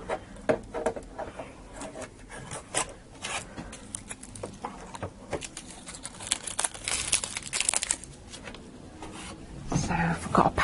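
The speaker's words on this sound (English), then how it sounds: "just take off all the tape" Tape is peeled and stripped off a new Janome Memory Craft 9450QCP sewing machine: close, intermittent ripping and rubbing sounds in short bursts with crinkling, and one louder tear near the end.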